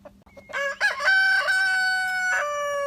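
A rooster crows loudly and close by in one long, drawn-out call, with hens clucking briefly just before it, among a backyard chicken flock.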